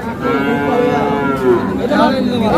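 A cow lets out a long, loud moo up close at a cattle market, followed by a second moo, with faint crowd chatter behind.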